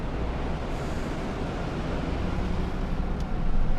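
A strong windstorm gusts steadily around a car with its window open in Colorado Springs, a loud, continuous rumbling roar that swells a little louder near the end, with no voices.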